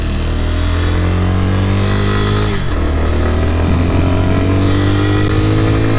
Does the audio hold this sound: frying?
no